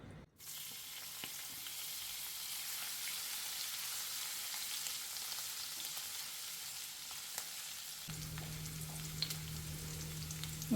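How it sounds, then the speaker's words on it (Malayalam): Crushed ginger, green chili and garlic frying in hot coconut oil in a pan, a quiet, even sizzle that runs unbroken for about ten seconds, with a faint low hum joining near the end and no talking. "ചട്ടി ചൂടായപ്പോൾ അതിൽ വെളിച്ചെണ്ണ ഒഴിച്ചിട്ടുണ്ട് ഇനി അതിലേക്ക് ഇഞ്ചിയും പച്ചമുളകും വെളുത്തുള്ളിയും ചതച്ചതാണ് അതിടാം"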